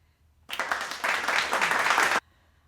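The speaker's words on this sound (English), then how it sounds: "can we clap for her?" Audience bursts into applause for just under two seconds, a dense even clatter of many hands that starts abruptly and stops cleanly.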